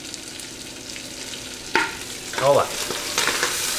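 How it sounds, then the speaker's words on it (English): Hot oil sizzling and popping in a pan during cooking, a constant crackle with sharper spurts and stirring noises, and a brief spoken remark near the middle. "I've got like hot oil popping on my face here"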